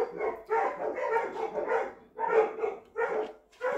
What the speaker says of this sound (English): The dogs always freak out, just like they haven't seen him in a year.